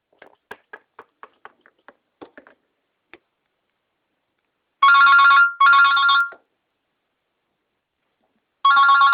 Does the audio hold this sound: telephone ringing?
yes